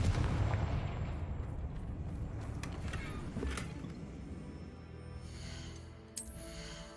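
Fire spell blast in the Hogwarts Legacy video game, a dense rumbling explosion sustained for several seconds, with a fresh burst near the end, no talk over it.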